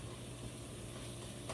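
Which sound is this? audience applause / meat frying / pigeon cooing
meat frying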